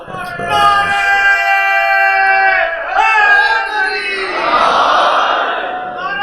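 A majlis audience at an imambargah shouts a religious slogan back in unison. The massed voices are loud and sustained, swelling into a broader roaring cheer near the end.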